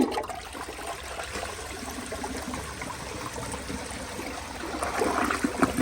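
A 2008 Mancesa Aquacer open-rim toilet flushing, with a steady close-up rush of pouring water that overfills the bowl, growing slightly louder and more turbulent near the end.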